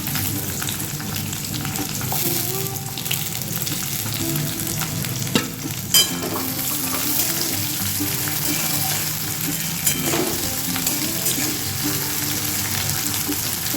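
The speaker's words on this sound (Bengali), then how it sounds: "উচ্ছেটা অনেকটা ভাজা হয়ে গেছে।" Sliced bitter gourd and onions fry in hot oil with a dense, continuous sizzle and crackle, close and steady, broken by a few soft stirring knocks.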